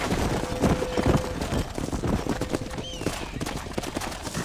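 Horse hooves clip-clopping at a run in the Red Dead Redemption video game, a steady busy rhythm with a brief whinny partway through, close and fairly loud over a dense background.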